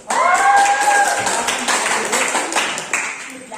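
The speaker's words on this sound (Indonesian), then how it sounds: "berikan aplaus dulu untuk kelompok 1" A classroom of students claps for a group of classmates, a dense burst of hand claps that starts loud at once and slowly thins over a few seconds, with some voices mixed in among the applause.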